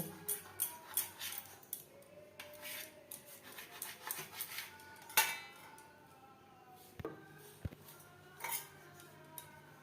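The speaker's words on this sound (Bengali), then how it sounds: "প্রত্যেকটা পাউরুটি এইভাবে কেটে নেব" A knife saws through slices of bread for malai toast, giving soft scraping and rasping strokes in irregular bursts, with occasional light clicks of the blade against a board or plate.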